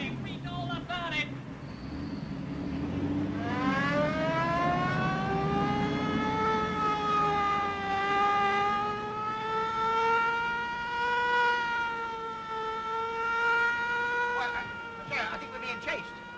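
A car siren wails loud and near, its tone sliding up and holding in a long rising howl during a chase, with brief voices at the start and end.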